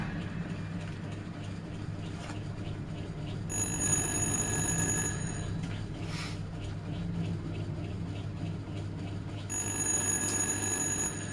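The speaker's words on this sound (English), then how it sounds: "So we've got a phone that rings without any cable." In the horror game Little Hope, an old cordless telephone rings in bursts of shrill electronic trilling over a low ambient drone, with a couple of ringing spells separated by quieter stretches.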